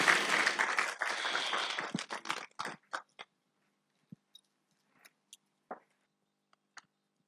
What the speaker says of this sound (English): Shall we please give him a round of applause?